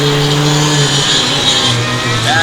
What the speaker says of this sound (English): Sean Gennard, the number 55 Formula Continental, having a smooth run.